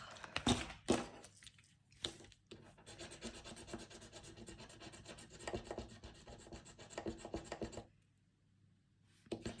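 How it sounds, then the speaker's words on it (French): A surface is scratched to check its condition, giving close, rough rasping and rubbing strokes in uneven bursts that pause now and then. "on va gratter pour voir"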